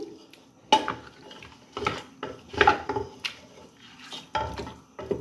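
Half a kilo of beef cooks with fried onions in oil in a pot for degi-style aloo gosht, stirred with a utensil that scrapes and clinks against the pot in several distinct knocks over a faint sizzle.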